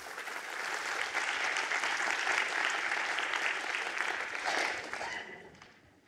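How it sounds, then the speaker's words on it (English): An audience claps for a speaker at a university thesis competition, with sustained, full applause that holds steady for several seconds before fading out at the end. "A round of applause for Andrew Drain."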